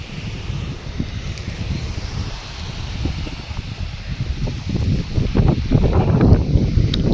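Strong wind roars across a farm field and buffets the microphone in low rumbling gusts that grow louder toward the end, with rustling underneath.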